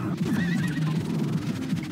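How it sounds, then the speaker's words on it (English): A horse neighs in the video game Pizza Tower, a quivering whinny over a busy, rumbling game soundtrack. "I can kill the horses?"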